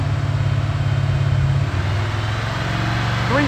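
A hydrogen-fuelled V8 engine runs at high RPM, around 3000, giving a loud, steady droning roar with a strong low hum, a brief dip in pitch midway, then a rising whine near the end.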